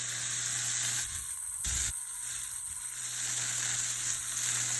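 Steak fillets sizzle loudly in a hot pan, a dense crackling hiss that dips briefly as the meat is slid around, then returns steady and close.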